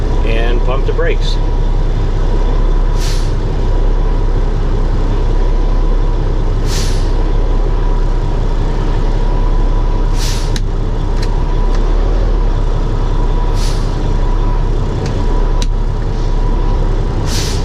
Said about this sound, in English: and pump the brakes.